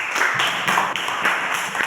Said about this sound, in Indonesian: Tepuk tangan untuk Mabes.